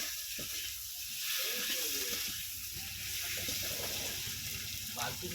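Tengra fish frying with spices in a pan, a steady close sizzle with soft scraping from stirring, constant and moderately loud throughout.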